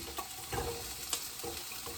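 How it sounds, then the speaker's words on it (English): Onions sizzle in olive oil in a pan as a soft, steady crackle, with a few light stirring scrapes. "You're gonna hear them sizzle."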